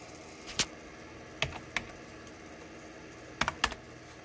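Sparse keystrokes on a computer keyboard while entering commands at a DOS prompt, a few isolated clicks and short double taps over a quiet background hum.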